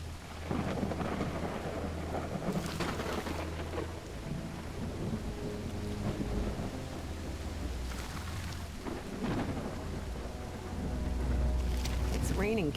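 Heavy rain pours steadily in the Call of the Eld game world, with deep rumbles of thunder rolling in and out underneath the continuous downpour.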